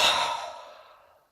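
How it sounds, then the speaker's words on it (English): A single forceful breath pushed out through the mouth in kundalini meditation, a close, breathy whoosh that starts strong and tapers away over about a second. "And then with cannon breath out."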